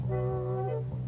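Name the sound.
ultrasonic tester echo from crankshaft casting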